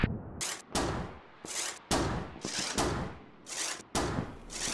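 Artillery rounds from an indirect fire mission in Combat Mission crash down in a rapid, irregular barrage of loud, close impacts. Each burst is sharp and followed by a brief rumbling decay.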